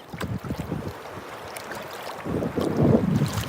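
Waves splashing at a beach on the Gulf of America, with wind buffeting the microphone; the surf swells louder near the end, close and choppy.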